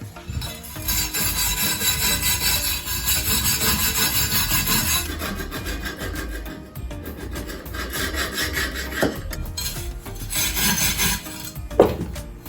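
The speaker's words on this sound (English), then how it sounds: "I'm going to take this wire brush. I'm going to just clean off some of the gunk that's built up on the beads here." A wire brush scrubs built-up gunk off the tire bead of a John Deere 110 garden tractor wheel, a loud, close, continuous rasping scrape with strokes varying in intensity.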